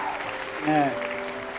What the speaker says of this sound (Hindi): उनके लिए भी जोरदार ताली होनी चाहिए।